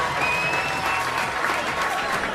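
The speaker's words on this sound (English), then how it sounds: "Give them all a big cheer as they make the way." Studio audience applause with some cheering during a televised hypnotherapy stage show, a steady dense clatter of clapping hands filling the room without a break.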